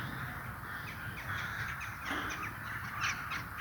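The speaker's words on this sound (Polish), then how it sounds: "Praktycznie ptaki gawronów pełno." Several rooks caw repeatedly from a distance in a park in early winter over steady outdoor background noise, their harsh calls overlapping in loose, irregular bursts.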